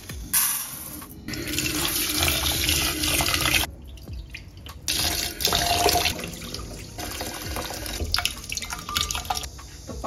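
Water runs steadily from a kitchen tap into a pot of rice, a continuous close splashing and trickling that briefly drops off and then resumes, with no talking.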